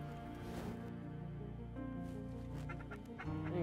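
Mallard duck calls during a late-season Wyoming duck hunt, repeated honking quacks carrying clearly over a steady low rumble, with several loud calls close together and no talk.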